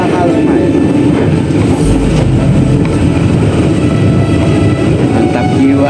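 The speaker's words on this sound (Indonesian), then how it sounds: "kereta ini goncangannya udah cukup dahsyat dengan bunyinya yang mantap bener" A KA Jayabaya passenger train with rubber-jointed cars and older bogies rumbles and rattles loudly from inside the carriage, a dense continuous roar of wheels and shaking bodywork with clacking over joints throughout.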